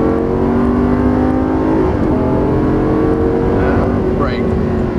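A Lamborghini Gallardo Superleggera accelerates in the Forza racing game on the Las Vegas Motor Speedway, a loud continuous engine drone that climbs in pitch near the end, with a voice speaking over it.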